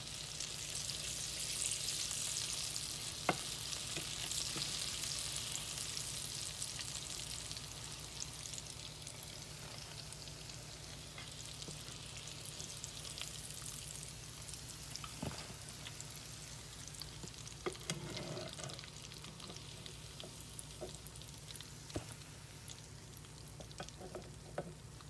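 Frozen okra frying in hot oil, a steady close sizzle across the whole stretch with a few faint clicks and pops, loudest at first and easing slightly later on, with no talking.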